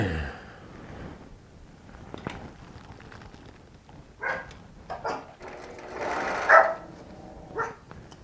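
A pet dog barks several times in short, sharp bursts in a home quilting room, with the steady hum of a sewing machine and quiet background noise between the barks.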